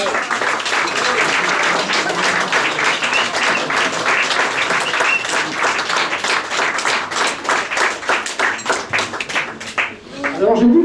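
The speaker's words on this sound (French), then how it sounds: "on peut l'applaudir plus fort que ça" Loud, sustained applause from the crowd at a Paris award ceremony for the Baguettes d'or, dense rapid clapping that thins into scattered separate claps near the end before a voice cuts in.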